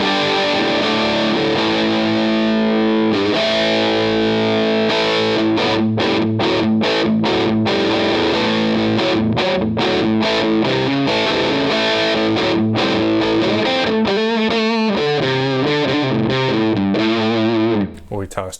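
Electric guitar played through a DIY Super Clone overdrive pedal, chords and riffs ringing with gritty distortion, loud and continuous, ending with a short decay.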